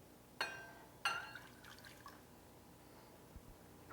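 Tap water poured into a bowl of tamarind for cooking, a couple of sharp splashing hits followed by quieter trickles and drips, close and faint against a quiet room, with no talking.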